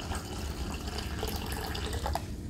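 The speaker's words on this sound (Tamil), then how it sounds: "இப்போது தேவையான தண்ணி விட்டு நம்ம ஊற வைக்கலாம்" Water poured from a tap onto washed rice and dal in a vessel for soaking before cooking dal khichdi, a steady close rushing flow that fills the whole stretch with no talk.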